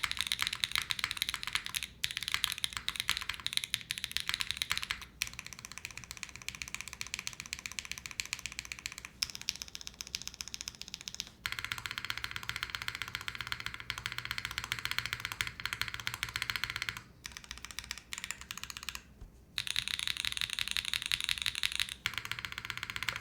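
Steady typing on an Angry Miao AM 65 Less mechanical keyboard, a Mode Envoy prototype build, with dense rapid keystrokes and brief pauses, close and clear throughout, with no talking.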